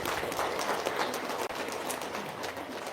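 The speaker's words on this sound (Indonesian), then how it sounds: "Tepuk tangan dulu dong." Audience applause at an evening religious gathering, a quiet, steady patter of many hands clapping, slightly distant, with a brief dip midway.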